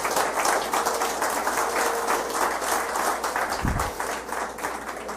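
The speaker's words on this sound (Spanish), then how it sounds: "Denle un aplauso al Señor Jesús." A church congregation claps for several seconds, a dense, even wash of applause heard from within the crowd, with a brief low thump near the end.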